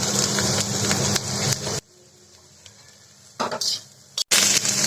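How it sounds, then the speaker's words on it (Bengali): Vegetables for lemon-leaf fried rice frying in a pan with orange peel, a broad steady sizzle with stirring scrapes, cutting out into near silence midway before the hiss and clatter return loudly. "সবগুলো একটু ভেজে নিব।"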